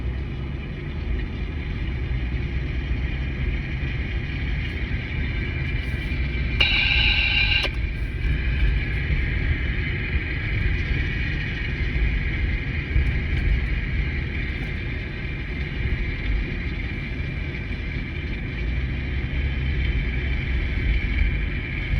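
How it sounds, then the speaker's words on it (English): A Mercedes W163 ML drives steadily on the road while a low droning hum from a worn rear driver's side wheel bearing continues beneath the engine and road noise, with a brief higher whine partway through. "Number 3 is on the rear wheel bearing, rear driver's side wheel bearing."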